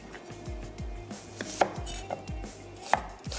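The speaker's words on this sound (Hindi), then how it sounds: "सबसे पहले तो मैं इसमें प्याज ही ऐड कर देती हूँ और उसको अच्छा सा चॉप कर लेते हैं।" A knife chops two medium onions roughly on a board for beef seekh kabab mince, giving a steady run of close, sharp thuds with a few louder cracking strikes and no voices.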